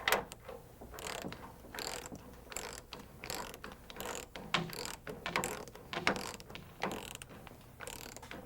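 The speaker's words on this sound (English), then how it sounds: "Tighten the nut to snug, and then push outward on the rotor blade straps to seat the thrust block against the thrust washer." Clicking ratchet strokes come in steady bursts as a nut is tightened on a helicopter rotor blade bolt, quiet and close, each pull giving a run of metallic pawl clicks with short pauses between.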